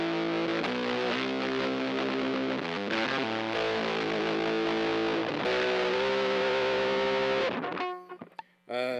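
Electric guitar on the neck pickup strummed through a Little Bear Fuzz distortion pedal, a series of loud saturated chords changing every second or two, then a sudden stop followed by a few sparse scratchy string noises.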